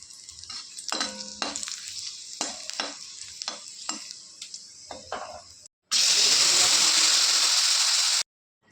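Black cumin, dried chilli and bay leaf hit hot oil in a wok with bursts of stirring and sizzling, then a loud, dense steady hiss of frying takes over before cutting off abruptly.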